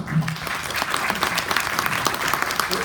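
Audience applause at a lecture on legal rhetoric and argumentation, a steady broadband clatter of many hands filling the room for about three seconds, close and fairly loud with no talk over it.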